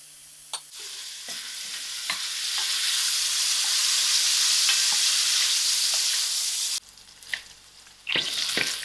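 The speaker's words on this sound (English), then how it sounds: "I'm going to give my paneer a quick fry" Paneer fries in half a cup of hot oil in a pan, a loud continuous sizzle swelling in the middle, with stirring clatter and scrapes at the start and again near the end.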